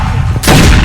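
Gunfire in the Roblox game Hyper Shot, a short loud burst of rapid shots that erupts after a moment of muffled game noise, lasting under a second.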